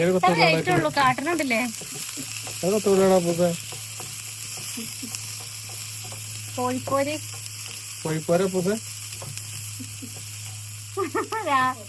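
Onion and green chilli fry in a pan with a steady, soft sizzle beneath frequent conversational talk and laughter, close by in a home kitchen.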